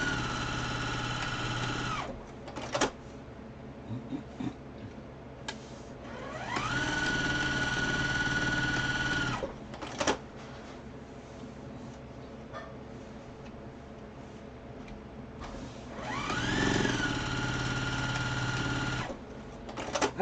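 A sewing machine runs in several bursts while stitching fabric masks, its fast mechanical whir starting and stopping with short pauses between runs, fairly close and alone with no talk.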